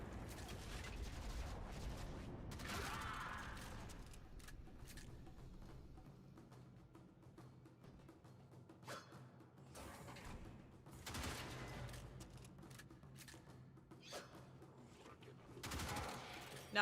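Warframe gunfire erupts in loud, ragged bursts and volleys of shots with mechanical clatter, separated by quieter gaps, heard alone without talk.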